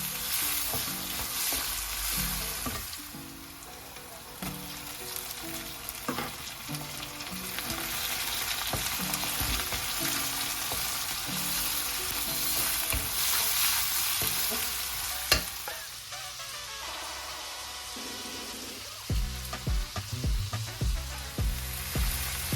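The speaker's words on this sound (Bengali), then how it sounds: "লাল শাক ভাজি করছি।" Red amaranth greens frying in a pan, a continuous close sizzle with repeated spatula scraping and tapping as they are stirred.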